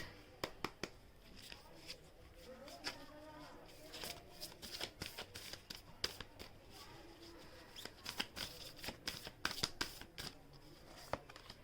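Tarot cards shuffled by hand during a reading, a busy run of crisp riffling and snapping flicks repeating throughout, close and moderately quiet with faint speech in the background.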